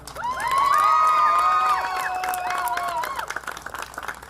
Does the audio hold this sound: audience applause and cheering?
yes